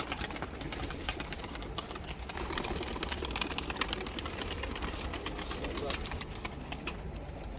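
Tumbler pigeons in a loft coo softly amid a continuous murmur of birds, faint and fairly steady, with people talking intermittently nearby.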